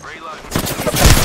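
Gunfire in the shooter game Apex Legends, a dense burst of rapid shots building toward the end over a busy game soundscape, with a voice briefly audible.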